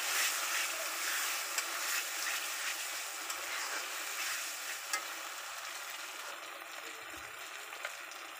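Chicken sautéing in a pan with chili and turmeric powder, a steady close sizzle with occasional stirring clinks, no talk.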